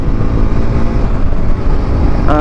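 A Hero Xpulse 210 4V motorcycle engine drones steadily and loudly while the bike is being ridden, a continuous close rumble with wind noise and no voices.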